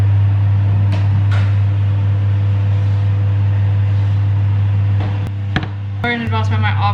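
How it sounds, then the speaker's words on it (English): A loud kitchen oven running while banana bread bakes, giving a strong, steady low hum throughout. Faint clicks and knocks sit on top of it, and a short burst of speech-like sound comes near the end. "my oven, it's so loud"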